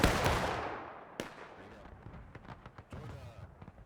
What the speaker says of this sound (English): is now putting in some long distance shooting